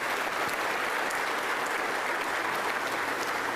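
A round of applause for a student body president at a university athletics speech, steady, dense clapping from a large crowd that holds at an even level throughout with no talking over it.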